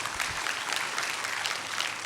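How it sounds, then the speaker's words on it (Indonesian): Church congregation applauding during an Indonesian Sunday service, a dense, steady wash of many hands clapping that fills the room without pause. "Beri tepuk tangan yang meriah buat Tuhan."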